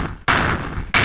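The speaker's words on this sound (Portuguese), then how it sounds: "Uma pistola atirando com laser" Laser pistol shots in a 3D GameStudio shooter, two loud, abrupt synthetic bursts close together, the first sustained and the second starting near the end, with no talking.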